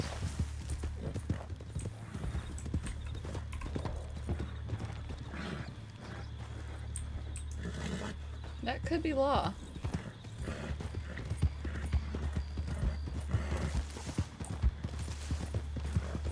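Horse hooves clip-clopping in the Western game RedM, a steady rhythmic clatter running under game ambience with a brief whinny partway through, while people talk over it.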